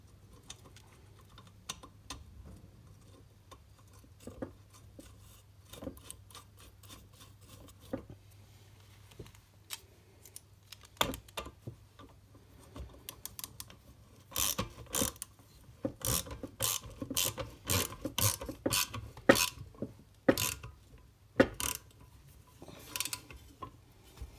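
Someone refits a nut on a Tecumseh BVS 143 lawnmower drive gearbox, making a series of close, sharp metallic clicks and ratcheting taps that grow faster and louder toward the end, with quiet scraping between them.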